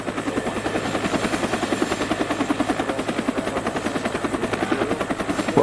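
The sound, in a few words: helicopter flying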